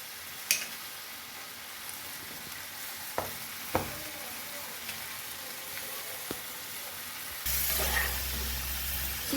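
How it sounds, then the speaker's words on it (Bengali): Chicken pieces with ground black cumin and black pepper fry in a pan with a steady close sizzle, broken by occasional scrapes and knocks as they are stirred, and the hiss swells near the end. "চিকেনগুলো ভালোভাবে নেড়ে নেব"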